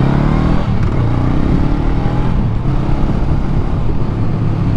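Motorcycle out on a ride, a loud, constant engine drone with rushing wind noise close to the rider, no speech.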